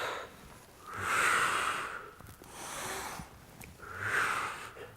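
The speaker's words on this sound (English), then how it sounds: "And inhale and exhale." Steady, audible breathing through the nose during a Pilates exercise, three long close inhales and exhales with a sniffing edge in an even rhythm, and no talk.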